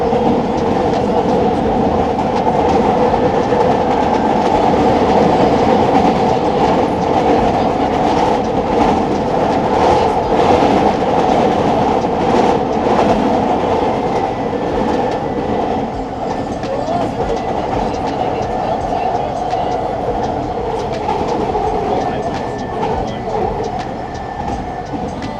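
Vancouver SkyTrain riding the rails near Burnaby Lake, a loud steady rumble of wheels on track with a humming drive tone and faint rhythmic clicks, continuous throughout from inside the car.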